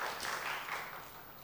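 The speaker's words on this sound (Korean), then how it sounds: "우리 박수 한번 쳐주세요" Faint, distant applause from a church congregation fills a brief moment, a soft spread of scattered clapping that slowly tapers off.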